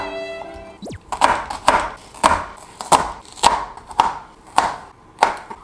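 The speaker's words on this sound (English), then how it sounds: "Gonna cut the peeled potato." Knife chopping a peeled potato on a cutting board for Korean pork bone soup, about nine steady, sharp, close thunks at a regular rhythm after a brief tonal chime at the start.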